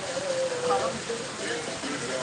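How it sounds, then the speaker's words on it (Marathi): Steady rain pours down in wet, stormy weather around a pani puri cart, a continuous broadband hiss of drops that holds at an even level throughout. "बघा इकडे पाऊस पडत आहे"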